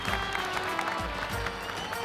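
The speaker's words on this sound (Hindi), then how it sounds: "एक बार जोरदार तालियां।" An audience at an Indian TV-show speech competition applauding loudly, a dense, steady wash of clapping that fills the whole short stretch.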